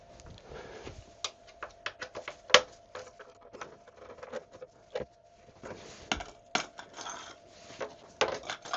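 Loose Honda VTR1000 SP1 motorcycle bolts drop and rattle into a lid during a restoration, making a close series of small metallic clinks and clatters, some sharper than others, with no talk.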